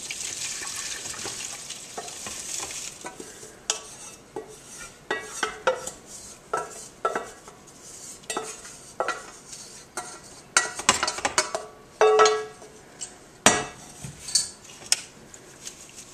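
Jewelweed salve being strained in a pot in a kitchen, with scattered clinks and scrapes of utensils against cookware, soft liquid trickles and a faint sizzle, intermittent and fairly quiet, no talk.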